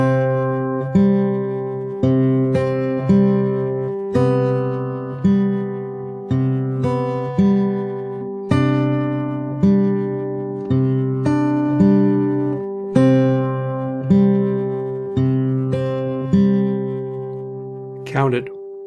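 Guitar playing the four intro measures of a song, a steady fingerpicked pattern of ringing plucked notes over repeating bass tones, clear and close, about eighteen seconds with no talking.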